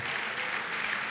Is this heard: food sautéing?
no